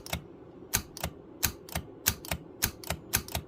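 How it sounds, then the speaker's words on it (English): The channel actuator in a Robyn GT-7C CB radio clicks and clacks in quick, evenly spaced mechanical snaps, about a dozen sharp ticks close up like a typewriter, with no voices. "You can see that the actuator is what actually changes the channel."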